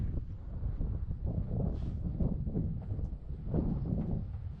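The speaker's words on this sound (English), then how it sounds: "It's a little breezy today and a little cold." Breezy desert wind blows steadily outdoors on a cold morning, a continuous low rumbling rush with gusting swells and microphone buffeting throughout.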